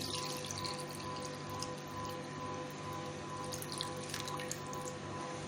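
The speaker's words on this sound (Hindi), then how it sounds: "हम तकरीबन 2 किलो इसमें पानी डालेंगे।" Continuous splashing rush of about 2 kilograms of water poured into a cooking pot holding 1.5 kilograms of meat for yakhni pulao, steady and close with small bubbling accents throughout.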